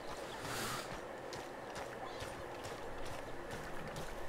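Horse hooves trotting in the video game Red Dead Redemption 2, a steady, rhythmic clip-clop of hoofbeats at moderate distance over a constant background rumble.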